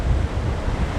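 Strong 22–23 knot wind and breaking waves rush against a Hallberg-Rassy 54 sailboat charging along at sea, a loud, close, continuous roar with gusty buffeting on the microphone.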